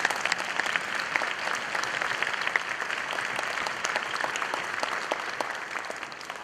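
Audience applause at a school spring orchestra concert, a steady, even wash of many hands clapping that holds at the same level from start to finish.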